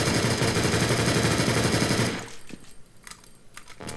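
An AK rifle in a game engine fires a loud, dense automatic burst for about two seconds, then breaks off into a few scattered, fainter shots and clatters.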